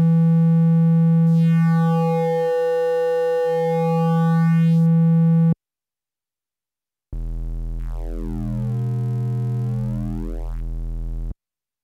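Korg monologue analog synthesizer oscillator set to a triangle wave, giving a soft, rounded sustained note with a slowly sweeping timbre, then a pause and a second lower, fuller tone, clear and alone with no talking.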